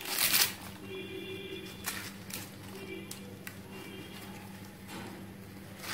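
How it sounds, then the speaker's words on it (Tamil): Soft papery rustling and crackling as husk leaves are peeled off fresh green corn for beach-style grilled corn, close and fairly quiet, with a steady low background hum and no talk. "இந்த சோளத்தில் இருக்கக்கூடிய இந்த சோளையெல்லாம் வந்து நம்ம இதை மாதிரி பிரித்து எடுத்துடலாம்."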